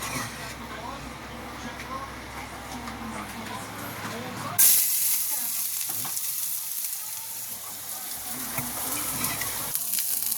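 Garlic frying with egg fried rice and spam in a pan, a steady close sizzle and hiss that jumps louder midway as the garlic goes in, continuing with stirring scrapes.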